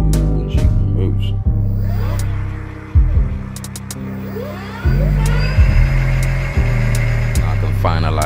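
An electric bike motor, fitted to a converted old bicycle, runs on the throttle with a loud, steady whining hum that steps up and down in pitch several times.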